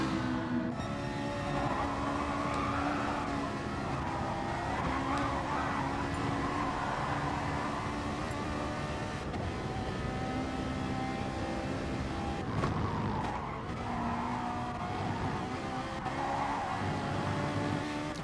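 A Ferrari race car lapping a track in a racing game, its engine droning steadily with rising and falling revs through gear changes and corners, loud and continuous with occasional tire noise.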